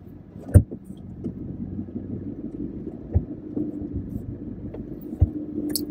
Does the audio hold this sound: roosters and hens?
no